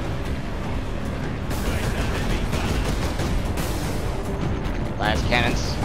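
Dense, rumbling booms and blasts of cannon fire in the video game Space Marine roll continuously, loud and chaotic, with voices talking over the barrage.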